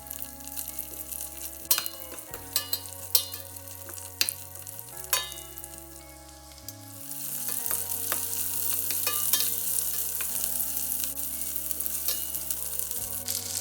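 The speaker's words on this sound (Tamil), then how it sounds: "வெட்டி வச்ச வெங்காயம் பச்சை மிளகாய் சித்த மிளகாய் கருவேப்பிலை எல்லாத்தையும் போட்டு ஒரு கொஞ்சம் தாளிப்பு" Onions, green chilies, dried chilies and curry leaves fry in hot tempering oil for a curry, giving a steady close crackling sizzle with occasional sharp spatters and stirring clicks, the hiss growing louder and denser midway.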